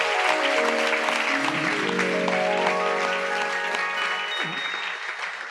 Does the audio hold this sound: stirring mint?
no